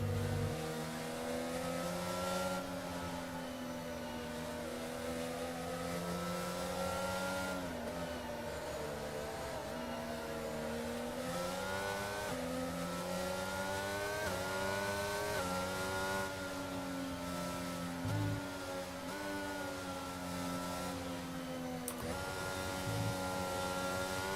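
Formula One race cars at the Spain circuit drone continuously with layered engine tones that rise and fall as they accelerate and run past under a safety car period, with no pause for the full stretch.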